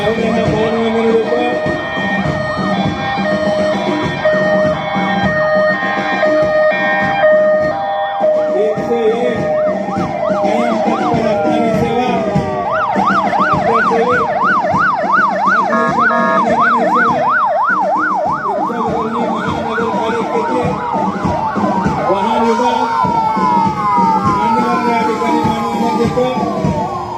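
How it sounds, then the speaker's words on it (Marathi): An ambulance siren wails continuously at a Republic Day parade in Ichalkaranji, loud and close, its rising and falling tone cycling rapidly over steady crowd and street noise, with people talking throughout. "रुग्णवाहिका"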